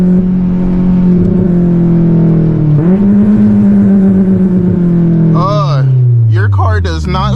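A straight-piped Honda S2000 drones loudly and steadily from inside the cabin while driving, its exhaust tone dipping and rising with throttle, then sweeping through revs near the end as a voice cuts in briefly.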